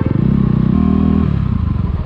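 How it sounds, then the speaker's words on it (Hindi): A motorcycle ridden steadily with a close, continuous engine rumble and some clatter, the rider back on the bike for the first time after an accident. "आज पहली बार बाइक चला रहा हूँ एक्सीडेंट के बाद।"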